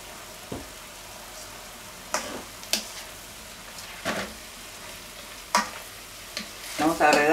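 Meat and vegetables stir-fry in oil with soy sauce, a faint steady sizzle broken by several sharp scraping stirs of a utensil against the pan, growing busier at the end.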